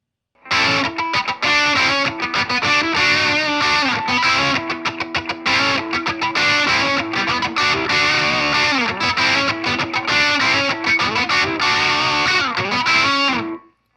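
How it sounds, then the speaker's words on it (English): Electric guitar through a Nux Plexi Crunch pedal set for classic low-gain overdrive in a 70s rock style, playing a continuous crunchy riff of chords and single notes for about thirteen seconds, loud and alone. "Now let's bring the tone up and go for a classic low gain overdrive."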